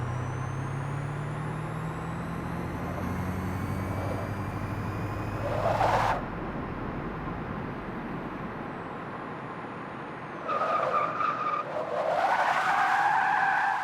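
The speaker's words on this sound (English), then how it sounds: "the tire screeches, they just sound weird" Tire screeches from the racing game Forza Motorsport 6, a sustained engine drone with short squealing bursts near the middle and end, moderately loud with no talking.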